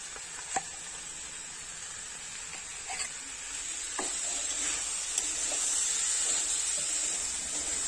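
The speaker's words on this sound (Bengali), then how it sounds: "2 থেকে 3 মিনিট খুব ভালোভাবে নাড়াচাড়া করে মশলার সাথে আলু ছোলা কষাই করে নিয়েছি" Boiled chickpeas and potatoes fry with spice paste in a pan, giving a soft steady sizzle with a few faint clicks of stirring, quiet and close.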